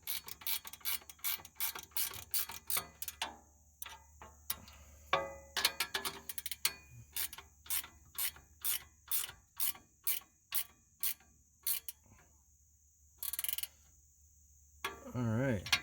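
A socket ratchet tightens bolts on a Kubota HST filter guard, giving steady bursts of close, sharp clicking with short pauses between strokes and no talking.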